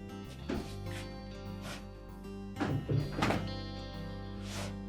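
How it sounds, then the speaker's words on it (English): Pantry drawer door on a Whirlpool refrigerator being opened and closed after a repair, giving a few soft thunks and sliding bumps spread through the clip against a steady low hum. "Check the operation, make sure that the door opens and closes as it should."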